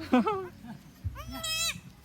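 Two high, wavering bleats from a newborn goat kid, the first short and the second longer and drawn out, with quiet background voices.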